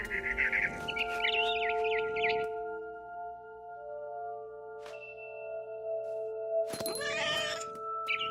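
A cat in the game What Remains of Edith Finch gives a couple of close meows at the start, followed by sustained musical tones and a brief bird flutter and chirp near the end.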